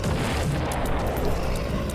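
An explosion in the video game The Binding of Isaac: Repentance, a dense, rumbling boom that fills the whole two seconds at steady loudness.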